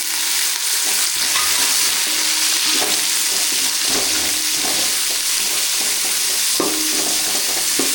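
Onions sizzling and frying steadily in a hot pan for a village-style chicken curry with vegetables, a loud continuous hiss broken by occasional stirring scrapes, no talking.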